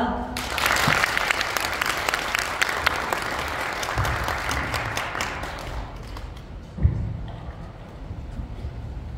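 An audience at a Korean seminar on blockchain and cryptocurrency applauds steadily and loudly for several seconds, then the clapping thins out and tapers off near the end.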